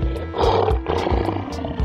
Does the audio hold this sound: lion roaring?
yes